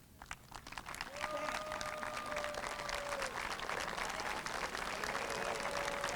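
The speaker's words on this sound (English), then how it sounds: "Now let's stand up and give those individuals a standing ovation with a thunderous applause." A large audience at the Bridgeton High School 2018 graduation rises in a standing ovation, clapping building quickly into a loud, dense, continuous roar with scattered whistles and cheers.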